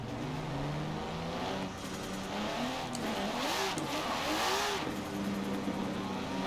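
A Ferrari F40 in Forza Horizon 4 revs hard, its engine pitch climbing and dropping through repeated surges and gear changes, loud and close with a continuous mechanical growl.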